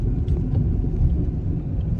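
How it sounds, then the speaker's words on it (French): Steady low road rumble and engine drone from inside a moving car, continuous and fairly loud with no talking, just after setting off on the road. "Petit plan voiture, ça y est, on a pris la route."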